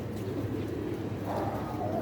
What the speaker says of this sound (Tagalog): Sobrang dami ng ibon, siksikan may may stress na ibon